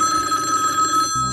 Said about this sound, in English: within a few days, the phone started ringing